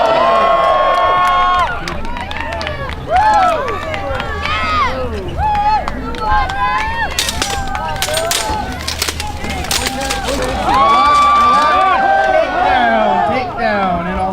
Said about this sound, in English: the louder you cheer, the harder they fight.